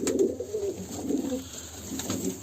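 Pigeons in a coop coo steadily in a low, throaty murmur, several birds close by overlapping in a soft, rolling rhythm.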